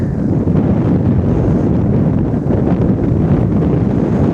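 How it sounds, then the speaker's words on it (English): Strong outdoor wind buffets a microphone on a ride out by the Ancholme at Bishopbridge, a dense, continuous low roar and rumble that stays loud for the whole stretch with no voices. "Makes you puff a bit, this wind, it gets right in your chest."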